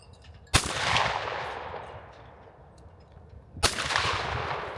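Two sharp gunshots from a gun fitted with a red dot sight, each a loud crack with a long echoing decay, about three seconds apart, with no talking.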